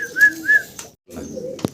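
A fancy pigeon gives two soft, rolling coos close by, followed by a brief pause and a rustle with a sharp tap.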